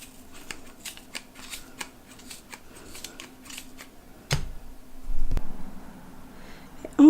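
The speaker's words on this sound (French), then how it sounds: "Je fais avec des ciseaux bien affilés." Sharp scissors snip through machine-knitted fabric, a string of small, crisp cuts in close, quiet surroundings, ending in a few louder handling noises.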